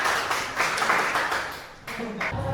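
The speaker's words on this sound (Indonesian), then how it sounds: "Lagi tepuk tangan untuk Salsa." A class applauds a student in a school classroom, a short burst of clapping from several pupils that fades and then picks up again briefly.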